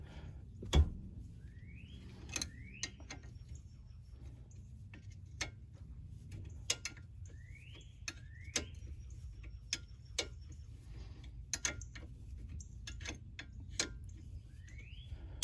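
Ratcheting wrench clicks come from removing the brake caliper bolts on a 2016 Smart fortwo 451, sounding as sparse metallic ticks spread across a quiet background, with a couple of faint rising squeaks between them.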